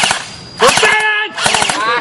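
Airsoft guns firing on an outdoor set, a loud burst of rapid shots followed by another burst after a short gap, with background voices and sharp report-like bursts.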